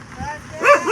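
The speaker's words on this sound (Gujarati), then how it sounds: "કૂતરી ભોકો માંડી" A female dog gives a short bark or yip near a parked car, brief and close, mixed with people talking.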